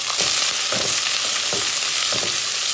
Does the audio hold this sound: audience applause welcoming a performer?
no